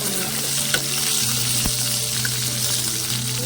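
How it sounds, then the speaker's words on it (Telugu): Green chilies frying in hot oil give off a loud, dense, continuous sizzle with fine crackling, close up and steady throughout, with no voices over it. "ఈ పచ్చిమిరపకాయలు వేయించేటప్పుడు కూడా జాగ్రత్త అండి, ఒక్కొక్కసారి పేని పడతా ఉంటాయి నూనెలో వేసినప్పుడు"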